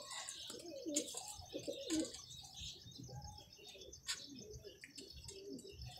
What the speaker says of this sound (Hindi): ये शिकरा टाइप जा कबूतर है